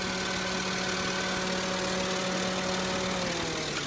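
A 2.5 liter V6 car engine with 117,000 miles idles steadily with the hood open, a continuous even hum with faint ticking and a low drone from the cooling fan, close and unbroken, no one talking.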